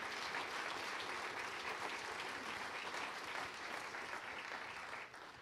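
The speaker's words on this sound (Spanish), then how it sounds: "De un aplauso al Señor." A church congregation applauds together, a dense, sustained clapping that fills the room at steady strength before tapering slightly near the end, with no talk over it.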